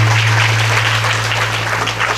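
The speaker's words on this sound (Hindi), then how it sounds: "चलिए यहाँ तो ताली बज गई" Audience applause breaks out during a Shrimad Devi Bhagwat Katha religious discourse: a steady, dense wash of clapping that holds evenly for about two seconds over a low electrical hum.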